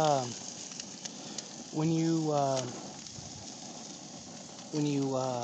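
Meat sizzles on a BBQ grill with a faint, constant crackling hiss running beneath someone speaking in short bursts.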